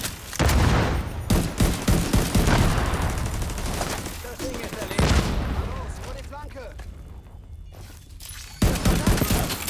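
Gunfire in The Division 2 during a co-op firefight, dense bursts of automatic shots and booming impacts in loud clusters, easing off briefly before another volley, while someone talks over it.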